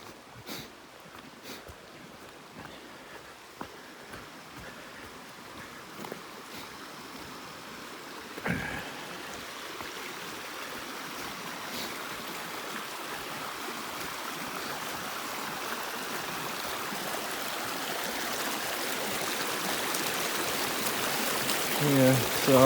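A stream on the Appalachian Trail rushes and trickles steadily as a hiker fords it, the water growing louder toward the end, with occasional sniffs and brief talk over it.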